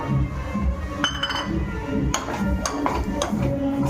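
A bowl gives several light metallic clinks as flour is roasted with cardamom in a home kitchen, scattered bright taps above a steady background hum.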